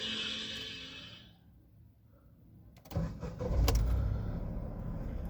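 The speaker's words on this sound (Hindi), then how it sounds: "ये इंजन स्टार्ट हो गया।" A 2020 Mahindra KUV100NXT K8 BS6 car engine cranks and catches after a quiet pause, with a clicking key turn, a brief whirring start and then a steady, rumbling idle close by.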